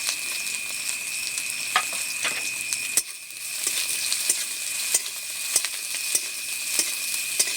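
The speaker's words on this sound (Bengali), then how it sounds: "পেঁয়াজগুলোকে হালকা একটু ভেজে নিচ্ছি।" Two chopped onions sizzle in hot oil with two or three bay leaves in a village kitchen, a steady close hiss broken by sharp clicks and scrapes of stirring.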